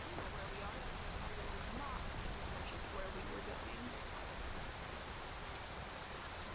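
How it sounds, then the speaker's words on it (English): Steady rain falls in the video game Skyrim, a broad, even hiss of drops that holds at a constant faint level throughout with no distinct pauses. "Now, I want the rain to end."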